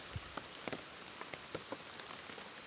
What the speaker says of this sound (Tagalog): Ulan guys, tanawa.